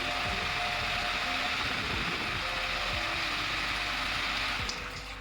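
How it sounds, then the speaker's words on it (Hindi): An Indo ERICA-48 air cooler runs with its fan whirring steadily while water falls and trickles behind it, a constant close broadband wash of air and splashing with no pauses. "फ़ैन की खाली आवाज़ है और पीछे जो पानी गिर रहा है उसकी आवाज़ है।"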